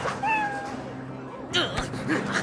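A cartoon cat meowing in a French animated series, a few short rising and falling meows over background music and other voices.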